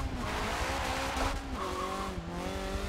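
Tires squeal continuously as a car drifts in Forza Motorsport 7, played on a Logitech G920 wheel, a steady high-pitched screech with wavering tones over a constant engine drone, loud and close throughout with no talking.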